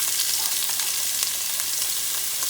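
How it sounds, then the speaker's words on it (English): Onions frying in a pot as the base of a sofrito for a short rib beef stew, a steady close, dense sizzle with no voices. "you're going to create your sofrito. And you do that by adding onions."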